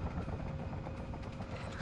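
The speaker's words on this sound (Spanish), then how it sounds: "Helicóptero." Helicopter in the video game Sniper Ghost Warrior 2, a dense rotor thrum and engine drone that stays loud and constant throughout, with no speech over it.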